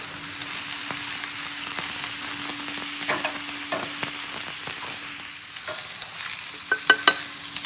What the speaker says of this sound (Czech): Nakrájím trojúhelníčky a usmažíme v oleji.